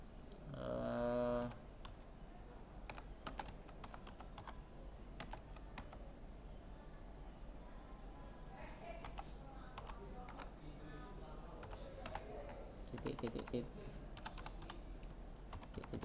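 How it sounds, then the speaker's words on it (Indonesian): Rapid clicking of a computer keyboard as text is typed, likely with an Arabic keyboard layout, irregular bursts of keystrokes spread across the whole span with a soft voice briefly heard near the start. "Bahasa Arab bisa langsung diketik menggunakan keyboard ya, menggunakan fitur keyboard Arabic"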